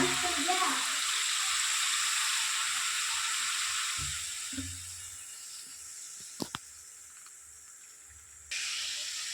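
Food fries in a pan with a steady hissing sizzle that slowly fades, joined by a few soft knocks and one sharp metallic tap near the end, without talk.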